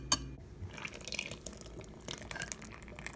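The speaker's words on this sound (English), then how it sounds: "Now we're gonna add our wet ingredients to our dry ingredients." Wet ingredients poured into a bowl of dry ingredients for baked apple cider donut batter, giving soft, close splashing and dripping liquid sounds with no voices.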